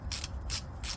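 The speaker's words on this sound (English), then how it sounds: "I don't know if y'all ever seen them breaker bars, the ones that rotate." A rotating ratchet breaker bar being turned while installing QA1 upper control arms, giving three quick bursts of close, crisp ratcheting clicks in a regular rhythm.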